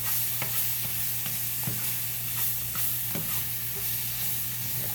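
Mushrooms frying in a pan for carbonara, a steady close sizzle under a low hum with repeated scraping stirs at an even rhythm, no voices.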